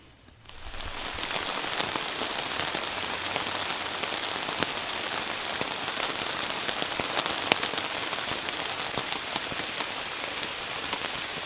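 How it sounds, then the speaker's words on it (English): Steady rain patters on a surface at an off-grid camp in the morning, a dense continuous hiss with scattered sharper drops, close and even from start to finish. "it's a little bit rainy this morning"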